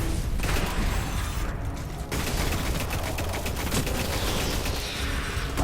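Rapid auto rifle fire in Destiny rattles on in a dense, continuous burst through most of the stretch, loud and close, with mechanical clatter and no voices.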